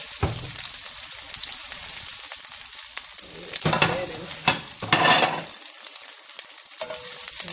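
Beef sizzles and crackles steadily in a hot pan, cooked in batches, with occasional scraping and stirring sounds rising above the constant frying hiss.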